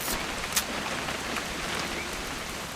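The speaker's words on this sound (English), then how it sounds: "It's gonna rain the whole weekend," Steady rain in the video game What Remains of Edith Finch, a continuous even hiss of falling drops with a few slightly sharper patters, moderately soft and without voices.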